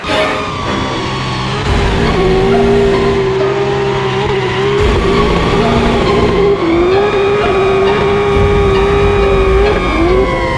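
James Deane's BMW drift car slides its rear along a trackside wall, a loud continuous engine roar with a sustained tire squeal running over it, close and steady throughout.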